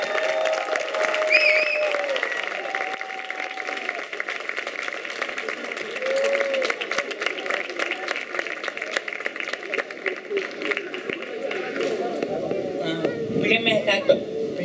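Audience applause welcoming the speaker of the 2021 Festa Major proclamation in Vilassar de Mar, a steady, dense clapping wash lasting throughout, with crowd murmur and a voice over a loudspeaker mixed in.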